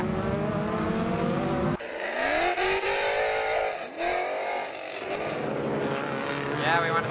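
A race car in a World Challenge series lapping the track, engine roaring loud and close as it accelerates and shifts, pitch rising and dropping through gear changes with brief tire squeal, the note surging and fading over the lap.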